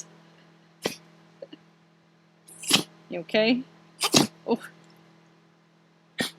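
A pet lets out a few short, sharp sneezes close by in an otherwise quiet room, with a person speaking softly between them.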